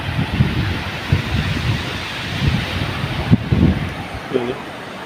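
Strong wind buffeting the microphone at a beach while gathering seashells, gusty rumbling bursts over a background of surf, with a voice briefly heard near the end.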